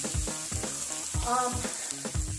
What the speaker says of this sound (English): I can saute the onions with it